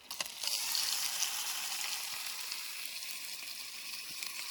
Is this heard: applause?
no